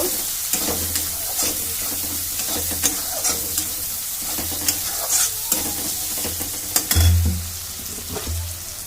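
Spices and ingredients for rohu fish biryani sautéing in a pan, a constant close sizzle with repeated scraping stirs and occasional clinks of a spatula, no voices.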